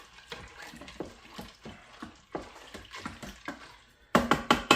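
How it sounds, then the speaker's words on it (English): A spoon stirring beans in water in a pot for red beans, soft irregular sloshes and scrapes in a quiet room, ending in a louder run of quick clattering stirs. "If it's just covering the beans, which it is, I'm gonna give it a stir."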